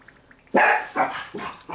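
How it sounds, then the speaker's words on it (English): A few quiet yips, then a run of three or four loud, close dog barks in quick succession. "Sorry about my dogs."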